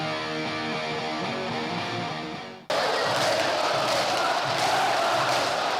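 Vasco da Gama football fans celebrating a Botafogo versus Vasco match: a tonal chant first, then an abrupt, dense and loud crowd roar that holds steady to the end.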